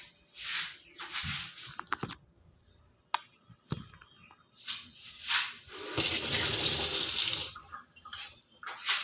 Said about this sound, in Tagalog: Pansin nyo, hugas ako ng hugas ng hands.